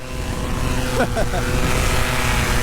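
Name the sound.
water-cooled engine revving up to full throttle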